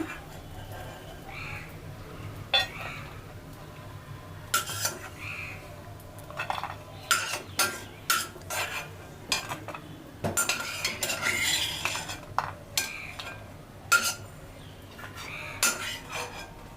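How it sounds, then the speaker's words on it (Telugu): Metal utensils scrape and clink against a pan while fried ingredients for semiya payasam, cooked in ghee, are scooped out. The clatters come in irregular close bursts over a low hum, with no talking. "ఇవి మంచిగా ఫ్రై అయిపోయి కాబట్టి ఇవన్నీ తీసేద్దాము"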